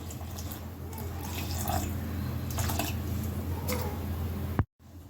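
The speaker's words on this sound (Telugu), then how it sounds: "తర్వాత నీళ్ళు వేస్తున్నాను సరిపడాన్ని అట్టుకు సరిపడాన్ని" Water splashes and trickles into thick dosa batter with wet squishing sounds, steady for several seconds before cutting off abruptly.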